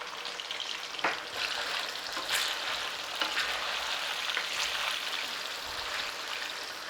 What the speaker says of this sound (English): it doesn't take very long to actually stir fry your beef